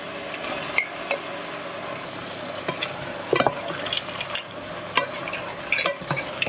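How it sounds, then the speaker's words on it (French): Fried rice with chicken, shrimp and pineapple being stirred in a pan, with a steady soft sizzle and intermittent scraping clicks of a utensil against the pan, no voices. "On mélange le tout."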